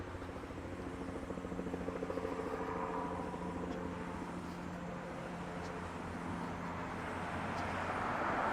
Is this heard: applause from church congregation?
no